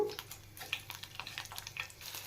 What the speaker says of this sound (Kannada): ಜಜ್ಜಿರೋ ಬೆಳ್ಳುಳ್ಳಿ ಇದನ್ನು ಫ್ರೈ ಮಾಡ್ಕೋಬೇಕು